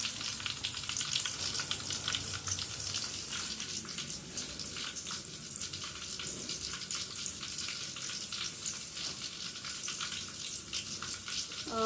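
Tempering spices for saag crackle and sizzle in hot oil, a dense, continuous frying hiss with scattered pops, close up and without talk.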